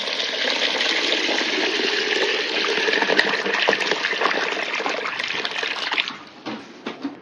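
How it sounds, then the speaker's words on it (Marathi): Water pours steadily into a container of wheat for about six seconds, a continuous rushing splash, then tapers off into a few smaller dribbles and sloshes. "ह्याच्यामध्ये आपण पाणी टाकून घेऊया"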